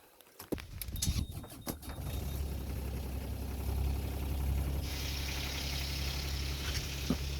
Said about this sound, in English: let's see if the engine will turn on now